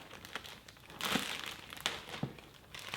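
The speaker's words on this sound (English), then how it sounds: "we're gonna peel off this blue wrapper" Blue protective plastic wrapper being peeled off a headlight, giving crinkly, crackling plastic rustles in a few bursts, close and moderately loud, with no talking.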